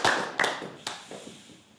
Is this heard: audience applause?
yes